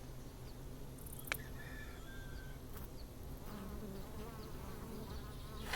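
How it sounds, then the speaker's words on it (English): Honeybees and native bees buzz steadily among sunflowers, a continuous close swarm drone with a few louder individual passes, no talking. "This is just crazy at all our honeybees and native bees and pollinators in this stuff."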